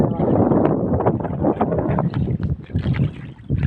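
Strong outdoor wind buffets the microphone beside a flooded river in cool weather, a steady, loud rumbling gust with rushing water noise underneath and no clear speech.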